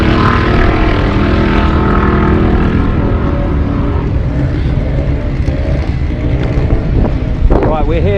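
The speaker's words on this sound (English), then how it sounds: "All this noise you can hear is the quarter-mile runs" Loud, continuous roar of cars making quarter-mile drag runs at a race track, sustained engine and wind noise filling the whole stretch with a rising pass near the end.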